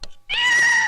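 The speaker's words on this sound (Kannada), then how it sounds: "ಏನ್ ಸೌಂಡ್ ಅದು? ಬೆಕ್ಕು ಮಾಡ್ರಾಗೋ." A cat gives a single loud, drawn-out meow close by, preceded by a short burst of a voice.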